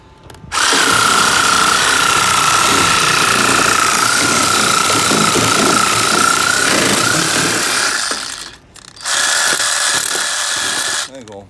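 An Aldi cordless reciprocating saw cuts steadily and loudly for about eight seconds, stops briefly, then resumes for a shorter burst.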